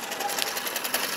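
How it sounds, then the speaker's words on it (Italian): Small two-stroke engine of an old, rusty Motom Daina moped running, a fast, steady buzzing putter with a bright, raspy tone, close and fairly loud, alone without talk. "50 anni di motorino arrugginito che va!"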